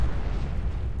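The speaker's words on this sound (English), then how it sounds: "Big explosion." A big explosion in the video game Fallout 4, heard as a dense, sustained low rumble that stays loud across the whole moment with no clear onset or tail.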